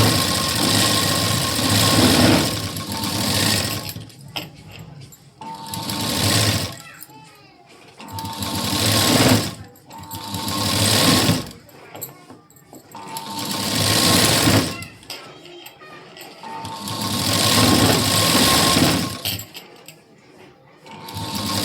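A sewing machine stitches a blouse neckline in repeated fast bursts of rattling, several runs separated by short pauses, loud and close.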